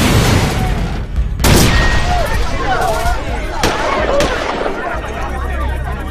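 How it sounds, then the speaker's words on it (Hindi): Two bomb explosions and gunshots: sharp blasts and cracks burst out amid a loud, chaotic din, with a few distinct bangs standing out over continuous rumbling noise. "लगातार दो बमों के धमाके हुए, फिर दो गोलियां चली।"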